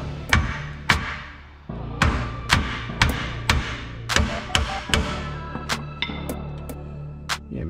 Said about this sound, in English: we're gonna actually have to tap this off. So I'm getting myself a hammer over here.